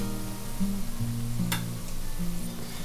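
Cabbage pakoda frying in oil over a medium flame gives a steady close sizzle with a brief sharp crackle midway, accompanied by a faint sustained tonal hum in the background.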